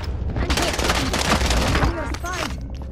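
Loud, dense gunfire in Call of Duty: Modern Warfare, a continuous barrage of close shots and bursts throughout, with a voice speaking partly underneath.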